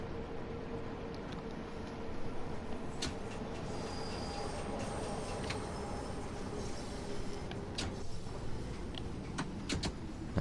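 A London Underground train on the Bakerloo Line rumbles past in the Train Sim World 2 game, a steady low roar with faint squeals and clicks over the full stretch, no voices.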